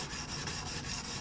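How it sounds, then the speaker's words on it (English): A drawknife is rubbed back and forth on Rhino wet/dry sandpaper for sharpening, a quiet rhythmic scraping of about six short strokes in quick succession. "This is Rhino Wet sandpaper that I use in knife making."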